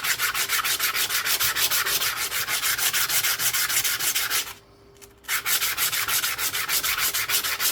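Sandpaper rubs a coin ring made from a US quarter in fast, steady back-and-forth strokes, loud and close, with a brief pause near the end before the scratchy rubbing resumes.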